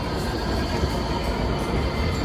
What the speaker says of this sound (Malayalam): ഇത് 2 ട്രാം ഒന്നിച്ച് ഒരേപോലെ.